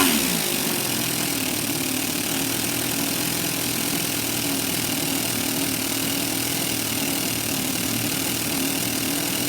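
Small model engine of a Toyan Sand Cruiser running in first gear, a steady buzzing drone that holds at an even level throughout, close and fairly loud with no talking.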